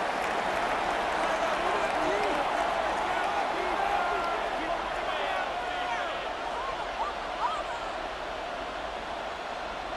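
A stadium crowd roars steadily during a Madden NFL 26 simulated football game between the Colts and Seahawks ahead of a third down, a dense, continuous wash of cheering that eases slightly toward the end.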